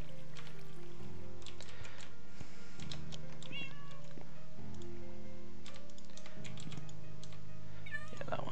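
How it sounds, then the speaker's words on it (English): A cat meows several times in Minecraft, the short rising cries standing out over steady background game music and ambient tones, with a faint clicking like typing underneath. "Oh, there's another cat over there."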